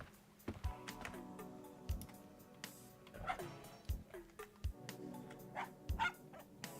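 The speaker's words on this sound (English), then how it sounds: "Dog!" Dog barking in the Journeyman Project video game, several short barks at irregular intervals mixed with soft clicks and game ambience, fairly quiet.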